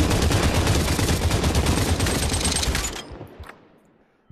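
Sustained rapid gunfire in the VR shooter Population One during a team deathmatch at a tower, loud and continuous for about three seconds, then cutting off into a fading echo with a final short crack.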